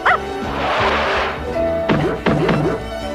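A cartoon dog barks in a quick series of yips and woofs after a muffled thud and a whooshing noise, loud and close in an animated scene with no speech.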